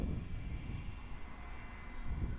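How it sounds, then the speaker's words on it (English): A Singapore Airlines A350 jet rumbles steadily through its takeoff roll at Perth Airport, a broad, continuous engine roar heard from a distance without any voices over it. "What a takeoff from the Singapore Airlines A350"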